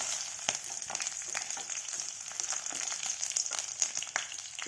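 Sliced onion, panch phoron and bay leaf sizzle in hot oil in a pan, a steady close crackle with faint clicks and scrapes as the spatula stirs them.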